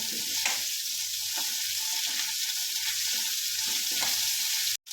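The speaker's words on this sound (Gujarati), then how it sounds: "સારી રીતે હલાવી નાખશું થોડીક વાર કૂક થવા દઈશું ટમેટા આપણે" Chopped tomatoes fry in a hot pan with curry leaves for a green moong dal curry, a steady close sizzle broken by repeated scraping stirs of a spoon, with no talk.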